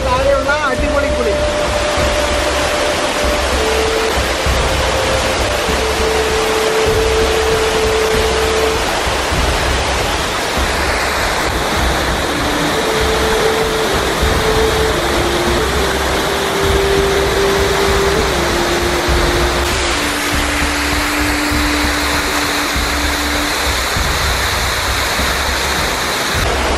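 Forest waterfall pouring in a constant loud roar of rushing water, broadband and unbroken throughout, with faint tonal hums drifting over it.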